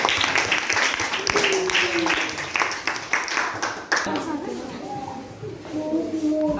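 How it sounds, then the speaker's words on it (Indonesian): Audience applause for a school group after a classroom role-play, a dense patter of clapping mixed with talking voices, fairly close and continuous. "kita beri tepuk tangan untuk kelompok"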